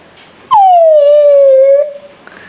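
A young child imitates a dog with one long, loud sustained howl that slides down in pitch and fades out, close to the microphone.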